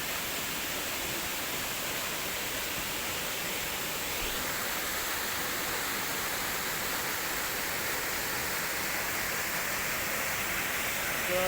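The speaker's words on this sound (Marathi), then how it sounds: "तिथला आमचा धबधबो" A natural waterfall in rural Konkan during the rains, a loud constant broadband rush of falling water that fills the whole clip without change.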